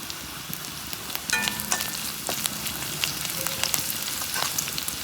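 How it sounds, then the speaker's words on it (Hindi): Cumin seeds crackle and sizzle in hot oil with a fish head in the pan, a continuous close frying hiss broken by scattered pops and the scrape of stirring. "अभी डालेगा थोड़ा सा जीरा सीड। फिर उसके बाद अच्छा से मिलाना है और फ्राई करना है।"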